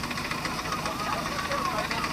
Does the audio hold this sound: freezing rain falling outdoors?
no